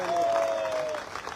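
Rally audience breaking into applause, a dense burst of clapping from a crowd with a voice rising over it, easing off after about a second.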